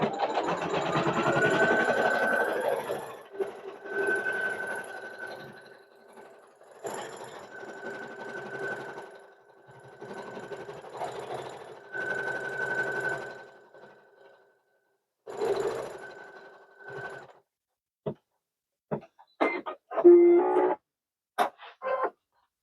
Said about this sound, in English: Now let's stitch out the circle.